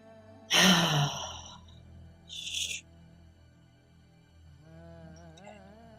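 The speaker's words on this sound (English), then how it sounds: "So let's take another deep breath." A deep breath, a strong sharp inhale followed by a softer exhale a second or so later, close to the microphone in a quiet room, with a faint voice starting near the end.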